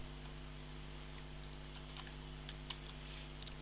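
Typing on a computer keyboard, a quick run of light clicking keystrokes over a steady low hum, fairly close and moderately quiet, with no voices.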